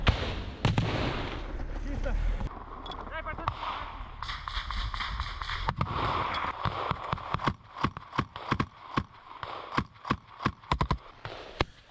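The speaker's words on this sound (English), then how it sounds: "We can see the Ukrainians firing out of the trench and into the tree line." Ukrainian soldiers fire from a trench toward a tree line in war footage, sharp rifle and machine-gun shots cracking irregularly and then in quicker bursts while voices talk over the early part.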